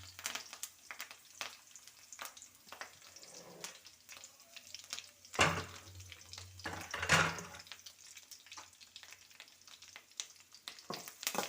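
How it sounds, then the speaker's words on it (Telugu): Spices crackle and sizzle in hot oil as tempering for tomato pickle, with a sharp burst of spitting midway and steady frying noise throughout, close by. "ఇదిగోండి తాలింపు వేస్తున్నాను."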